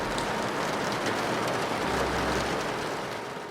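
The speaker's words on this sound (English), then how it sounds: "and there was constant rainfall." Constant rainfall, a dense, steady hiss of rain falling on surfaces, loud and unbroken throughout.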